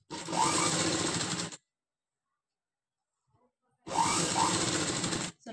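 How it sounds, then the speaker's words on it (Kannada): A sewing machine stitching frills runs in two close, loud bursts of rapid mechanical whirring, each about a second and a half long, separated by a couple of seconds of silence. "ಸ್ವಲ್ಪ ನಿಧಾನವಾಗಿ ಸ್ಟಿಚ್ ಹಾಕೊಳ್ಳಿ"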